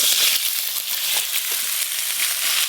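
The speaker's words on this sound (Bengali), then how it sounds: "ঝোলের জন্য ঝিঙে আর আলু একটু হালকা করে নেড়ে নেব।" Ridge gourd and potato being lightly stir-fried for a curry, a steady close hiss of frying with scattered small crackles and faint scraping of stirring, no talk.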